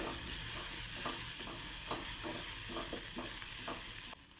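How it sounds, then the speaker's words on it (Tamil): Onions and green chilies sizzle steadily in a hot pan with a spoon scraping and stirring at a regular pace, close by and without talk. "இந்த வெங்காயம் பச்சை மிளகாய் இதெல்லாம் கொஞ்சம் நல்லா வதங்கணும்"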